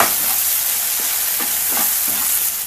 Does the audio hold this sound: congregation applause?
no